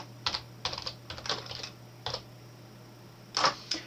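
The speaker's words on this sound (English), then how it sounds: "we click in the re-enter password box and we type it again." A password is typed on a computer keyboard in short bursts of crisp key clicks, a few quick taps at a time with brief pauses between them, close and clear over a faint steady hum.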